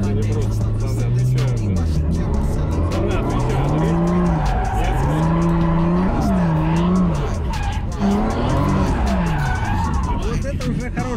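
A car drifts with long, wavering tire squeals rising and falling over a continuous engine roar, loud and close throughout.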